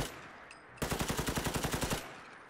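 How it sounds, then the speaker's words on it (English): A makeshift shotgun in Fallout 4 sounds as a loud, close burst of rapid evenly spaced cracks lasting just over a second, which then ends abruptly into quiet ambience. "I'll just use pull out my makeshift shotgun."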